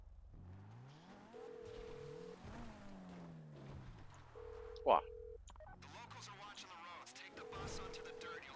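A phone call in Grand Theft Auto V rings out unanswered, with the ring tone repeating at steady intervals over game engine and vehicle sounds. Someone talks briefly, and there is one sharp burst near the middle.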